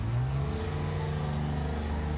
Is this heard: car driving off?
yes